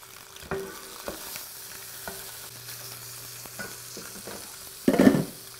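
Lamb knuckles brown in a hot pan with a quiet background sizzle, scattered stirring clinks and a louder burst of scraping and frying as the pieces are turned.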